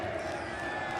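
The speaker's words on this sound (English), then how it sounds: "Alex, this is how Brazilians cheer" A packed esports arena crowd of Brazilian fans cheers and roars in a steady, dense wall of voices, loud and continuous.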